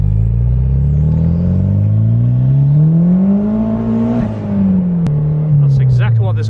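A Honda S2000 with a titanium exhaust pulls hard through second gear, its engine note rising steadily to a loud, raspy peak before the revs drop at the shift and climb again.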